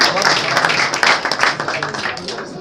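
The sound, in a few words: audience applause for students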